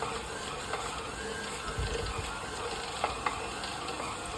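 Continuous whirring and ticking of a stand mixer kneading enriched sourdough brioche dough, a steady mechanical hum with faint rhythmic slapping and clicks, no voices.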